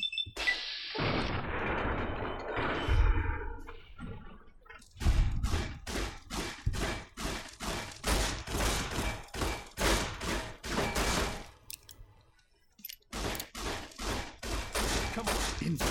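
Rapid repeated gunshots in a shooting video game, a long run of loud, evenly spaced blasts that breaks off briefly and then resumes.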